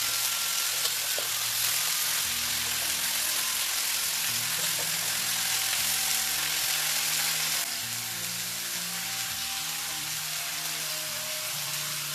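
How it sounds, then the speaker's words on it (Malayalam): Chopped ivy gourd frying in hot oil in a wok gives a dense, continuous sizzle, loud and close, easing slightly partway through, with a low tonal hum underneath and no speech. "ചീനച്ചട്ടിയിലെ എണ്ണ നന്നായിട്ട് ചൂടായി വരുമ്പോഴേക്കും നമുക്ക് അരിഞ്ഞു വെച്ചിട്ടുള്ള കോവയ്ക്കയെല്ലാം ചേർത്ത്"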